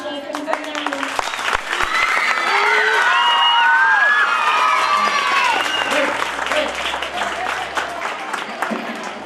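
A school audience applauds and cheers after a recital of Vemana poems: sustained loud clapping swelling in the middle, with shouts and voices mixed in, then easing off.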